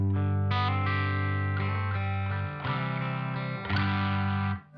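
Ivison Hurricane '59 electric guitar played with a lighter pick attack so the overdriven tone cleans up, sustained chords ringing out with a few fresh strums across nearly five seconds before dropping away at the end, no talking.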